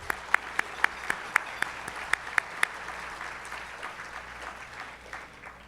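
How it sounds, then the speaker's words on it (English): A crowd applauds at a YMCA annual celebration, steady dense clapping with a few sharp close claps standing out in the first half, then the applause gradually thins and fades. "Let's give Ricky one more hand of applause"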